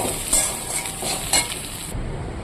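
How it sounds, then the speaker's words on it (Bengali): Egg, onion, garlic and chili frying together in a pan, a steady sizzle broken by two brief scraping stirs, close and moderately loud with no talking. "একসঙ্গে এভাবে আমি ভেজে নেবো"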